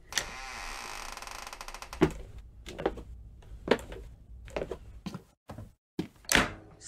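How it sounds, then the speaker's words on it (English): A door opening in an old radio drama, heard as a series of wooden thunks and creaks spread across several seconds. Each sound is sharp and close, with short silences between them and no talk. "Well, Samuel, open the door. Open the door."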